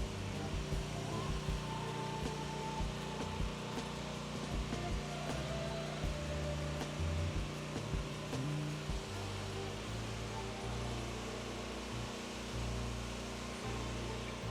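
A petrol pressure washer sprays water in a constant loud hiss, with the engine's low droning hum steady underneath throughout, no talking.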